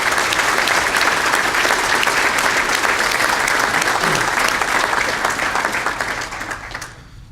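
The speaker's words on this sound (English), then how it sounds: "I want to give you a quick round of applause for solving that murder" A crowd at a police awards ceremony applauds, steady and loud with many hands clapping at once, then tapers off near the end.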